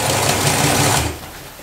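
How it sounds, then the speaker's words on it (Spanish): A sewing machine runs a zigzag stitch over denim jeans, a loud, close, fast mechanical whir that stops suddenly partway through, leaving a quieter tail. "también pasamos un zigzag para que nos tape un poco y nos deje coser a gusto"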